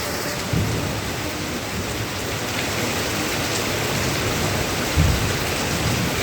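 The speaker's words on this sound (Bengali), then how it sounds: "সকাল থেকে মুষলধারে বৃষ্টি হাওড়ায়।" Heavy rain pours down steadily in Howrah as a dense, even downpour hiss with a few low rumbles beneath it.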